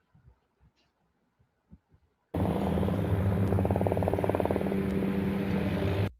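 After quiet faint ticking, a loud helicopter cuts in abruptly, flying over a city during a drill, its rotors producing a steady rapid throbbing drone that stays close and constant until it stops suddenly.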